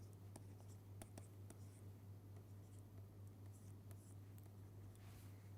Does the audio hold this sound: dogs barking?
no